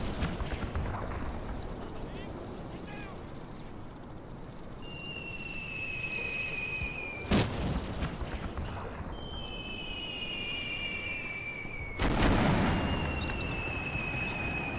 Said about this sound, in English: that's some distant fire from mortars